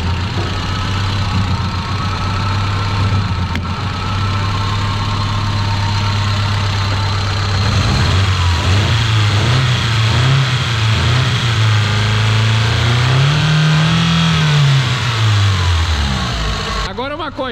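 The engine of a Chevrolet Vectra that stood unused for ten years idles with a steady low hum, then revs up and down in several rising and falling swells, close and loud, with people talking over it.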